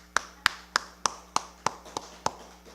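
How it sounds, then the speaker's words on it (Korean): A church congregation at a Sunday service claps in steady unison, about nine crisp, evenly spaced claps at a brisk pace, moderately close in a quiet room. "박수 한번 쳐줍시다"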